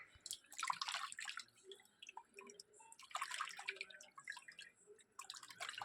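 Water drips and splashes in faint bursts while a stingray is washed and cleaned by hand, the trickling coming and going in uneven clusters.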